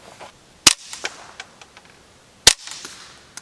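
Two sharp, sudden cracks about two seconds apart, the first louder, with faint clicks and rustling between them, from a suppressed .22 rifle (Performance Center TCR .22 with Rebel Silencers SOS-22, 20-inch barrel).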